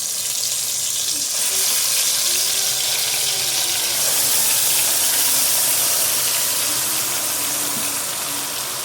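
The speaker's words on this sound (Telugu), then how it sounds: "ఆయిల్ కాగింది కదా, ఇప్పుడు మనం మ్యారినేట్ చేసుకున్న చికెన్ ఉంది కదా, ఆ చికెన్ మొత్తం కూడా ఇందులో యాడ్ చేసేసుకోవాలి" Marinated chicken frying in hot oil for a restaurant-style green dum biryani, giving a steady, loud, close sizzle and hiss with some watery bubbling that continues throughout.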